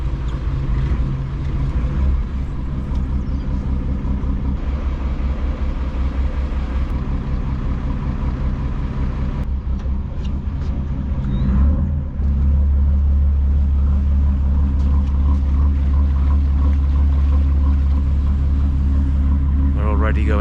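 A boat's engine runs in forward gear with no wind, a steady low rumble that deepens and strengthens partway through as it pushes the boat, with someone talking over it.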